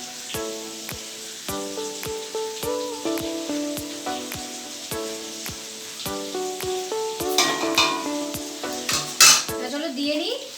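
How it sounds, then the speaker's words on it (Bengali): Rice is tipped into a metal pot of vegetable biryani with repeated clinks and scrapes of a spoon and utensils against the pot, over steady tonal background music, growing busier near the end. "এরপরে এর মধ্যে আমি সব রাইসগুলো দেবো।"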